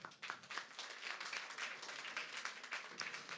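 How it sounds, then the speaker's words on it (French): Audience at a French talk on food in 2050 applauding a speaker, a dense, even wash of many hands clapping for a few seconds, fairly distant and soft. "je vous demande de l'applaudir, s'il vous plaît"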